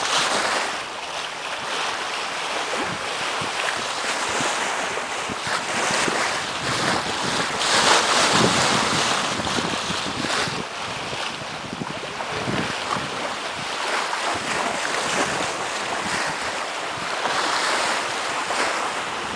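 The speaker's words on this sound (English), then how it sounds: "Okay, we're under sail." Schooner under sail on open water, with constant broadband rush of waves against the hull and gusting wind buffeting close to the microphone, no voices.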